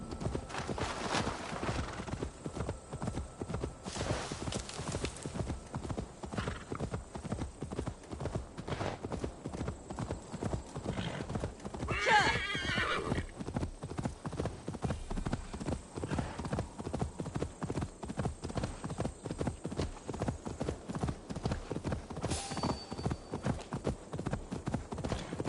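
Rapid hoofbeats of a horse in the video game Assassin's Creed Valhalla clatter in a steady galloping rhythm for the whole stretch, with a whinny breaking through partway along.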